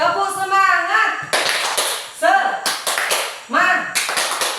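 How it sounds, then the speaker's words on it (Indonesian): At an Indonesian teachers' session, an audience performs the 'tepuk semangat' clapping chant: sharp bursts of group clapping in a set pattern alternate with voices chanting together, the claps loud and near. "mari kita Bapak Ibu kita tepuk semangat"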